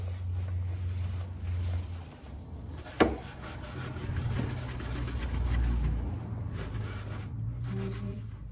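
Brush scrubbing a car surface, a steady close rubbing and scraping texture with a sharp knock partway through, continuous and moderately loud with a low background hum.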